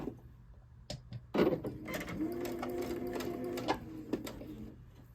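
A sewing machine stitches curved fabric pieces in slow bursts, with a few clicks and handling taps before a steady rhythmic whirring run that trails off into more small clicks, close and clear.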